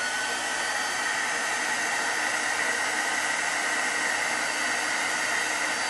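A heat tool blows steadily across a stamped card to melt embossing powder, a constant loud broadband whoosh lasting the full stretch without pause or speech.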